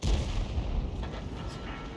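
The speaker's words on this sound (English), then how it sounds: "he drives straight into another shell" Tank shell firing and impact in World of Tanks, a heavy low boom followed by rumbling aftershock and fainter crackles, with a voice faintly underneath.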